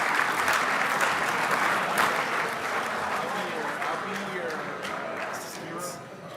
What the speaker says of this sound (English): another big round of applause for those youngsters